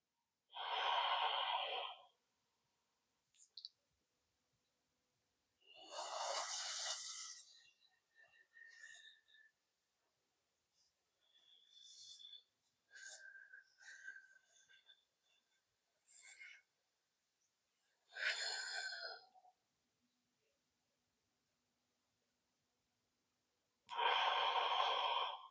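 Audible inhalations and exhalations of a cooling breathing exercise, air drawn in through the tongue, come in several separate breathy bursts with quiet pauses between them and no talking.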